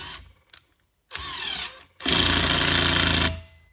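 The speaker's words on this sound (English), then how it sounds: "you're driving these long GRK structural wood screws" A power tool whirs in short bursts, then a loud sustained rattling impact driver hammers a long GRK structural wood screw in for over a second before stopping.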